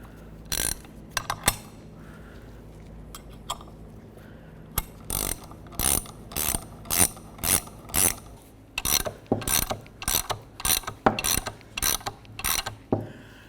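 A 1-inch wrench tightens the power steering pump pulley nut on a 1994-2002 Dodge Ram 2500. Sharp metallic ratcheting clicks come close, first in scattered bursts and then in a quick, regular run of short strokes, with no voices.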